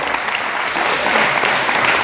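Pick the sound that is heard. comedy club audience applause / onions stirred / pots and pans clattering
comedy club audience applause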